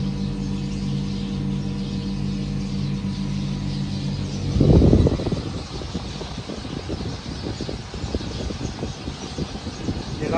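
A Mitsubishi inverter air conditioner compressor, under repair for a refrigerant leak, runs at high speed as a steady, tonal hum. Partway through, a loud burst cuts in, and rougher, crackling noise follows.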